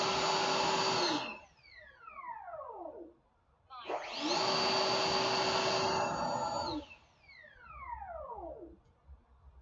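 An RC L-39 model jet with a ducted fan on a 3S battery spools up twice into a loud, steady, whining whoosh like a vacuum cleaner, each run winding down with a falling whine.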